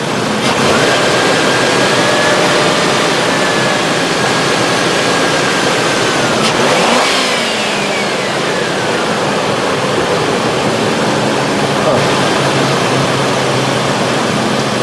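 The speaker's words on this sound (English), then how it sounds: "see if I can put a little throttle on there" Throttle is applied to the engine of a 1997 Mercury Grand Marquis that has a slight skip, holding a loud, steady, rushing roar with a brief swell in pitch midway.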